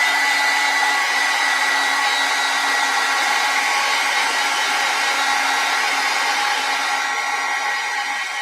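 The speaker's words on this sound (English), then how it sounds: "let's get the heat gun and dry that right up" A heat gun drying a watercolor snowman card gives a loud, steady, close whooshing roar that runs unbroken throughout, with no speech.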